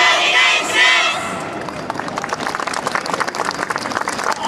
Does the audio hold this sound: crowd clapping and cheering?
yes